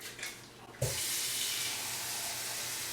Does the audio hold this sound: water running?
yes